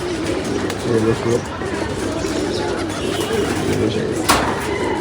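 Pigeons coo close by in a loft or market setting, soft repeated burbling calls over a constant busy background while someone talks throughout.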